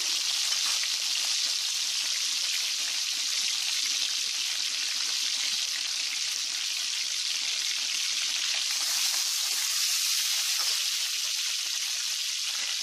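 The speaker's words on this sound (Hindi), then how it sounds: "ऑयल हल्का सा गर्म हो जाए तो हम इसमें बटर डाल देंगे" Butter melts into hot oil in a pan for Mumbai-style pav bhaji, giving a loud, continuous bright frying sizzle that holds evenly with no pauses, brightening slightly past the middle.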